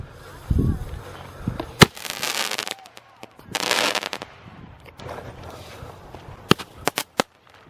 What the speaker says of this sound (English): Everybody back up, I got a fireworks set up.